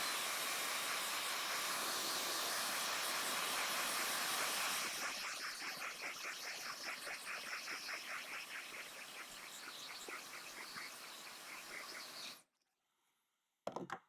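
A hair dryer blows on wet paint on a portrait canvas. There is a loud, steady hiss at first, then a softer, fluttering airflow with a faint pulsing, before it cuts off abruptly near the end.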